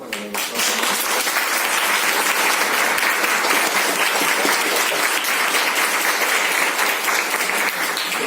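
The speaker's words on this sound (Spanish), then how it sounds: "Solo les pido un aplauso para la doctora." An audience at the close of a qualitative research introduction session breaks into loud, steady applause that holds at full strength for several seconds without fading.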